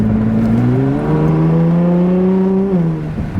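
A Nissan GTR R35 with an HKS Legamax exhaust drones loud and steady, a sustained low tone that climbs slightly and then drops near the end, with no talk over it.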